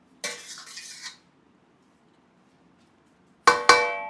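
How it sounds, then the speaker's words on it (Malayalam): Biryani being served from a pot onto a plate: two short bursts of metal utensil scraping and clinking against cookware, separated by a quiet pause, close and clear with no talk. "നമുക്ക് പ്ലേറ്റിൽ സെർവ് ചെയ്യാം"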